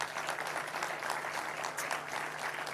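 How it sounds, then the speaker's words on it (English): An audience at the final of a darts tournament, the Swedish Masters, claps steadily in a dense, even wash of applause heard at a distance, with no break. "An applause for that."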